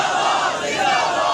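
A large crowd at a religious gathering roaring a chanted slogan in unison, a dense, loud, sustained wall of voices filling the short moment.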